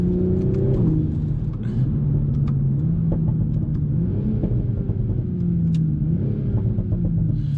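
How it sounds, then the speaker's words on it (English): A Toyota Supra's engine drones steadily from inside the car, its pitch dropping and climbing as gears change, with a few faint crackling pops from the exhaust. "I've caught myself downshifting just because I want to hear those pops more often than not"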